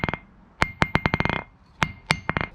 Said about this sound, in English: As if I do that on my face, with my tilted hammer, you notice it doesn't do any damage to the face of the anvil